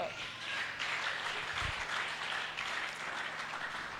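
A church congregation applauds steadily at a sermon on family and present-day realities, a dense, moderately distant wash of clapping that holds for the full few seconds with a soft low thump partway through.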